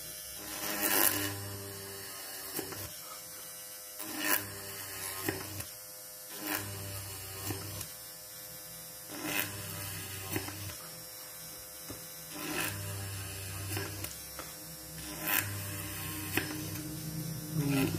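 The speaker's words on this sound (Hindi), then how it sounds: "अब ये मोटर ऑन होने के बाद में इसे हम इस तरीके से ड्रिल कर सकते हैं" A small motor-driven drill bores holes in a printed circuit board, a steady motor hum broken by repeated rasping bursts of drilling at regular intervals, close and alone without speech.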